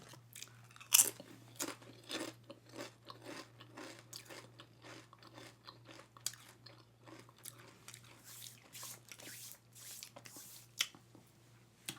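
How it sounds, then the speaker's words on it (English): Close, crisp crunching and wet chewing of pickles and Lay's potato chips, with irregular bites and mouth sounds repeating throughout against a steady low hum, no talking. "You just want to listen to me eat and snack on some pickles."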